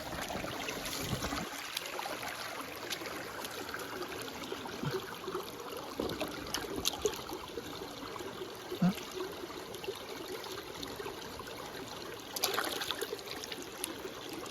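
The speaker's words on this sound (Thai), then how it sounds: "ที่นี่ก็จะได้ยินเสียงน้ำไหลลงมา" A forest stream runs steadily throughout, its water trickling and burbling in a continuous wash with a few slightly louder splashes and no talk.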